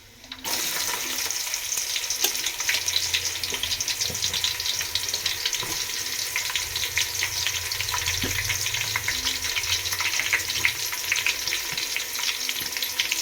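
Onions dropped into hot oil for chicken biryani, a loud sizzle that bursts in suddenly and keeps crackling steadily up close, with no voices.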